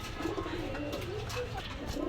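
Pigeons in a pigeon shop coo in soft, repeated rolling calls, close and fairly quiet over a low background murmur.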